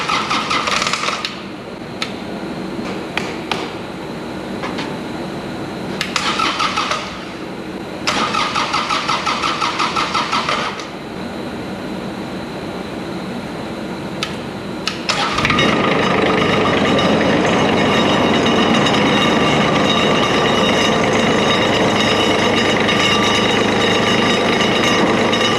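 A homemade motor roller's engine, run without coolant, cranks in several short bursts, then catches and settles into a loud, steady running roar close by.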